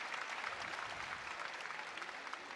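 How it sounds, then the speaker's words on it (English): A crowd at a women's college basketball game between Maryland and Michigan State applauds and cheers an injured player as she gets back up, a steady distant roar of clapping. "You could hear the crowd cheer her on as she gets back up."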